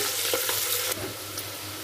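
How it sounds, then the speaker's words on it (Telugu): Onions fry in a pan for a chicken curry, giving a steady close-up sizzle with a couple of soft stirring scrapes and one brief louder burst partway through. "ఇవి మంచి కలర్ వచ్చే వరకు ఫ్రై చేసుకోవాలి"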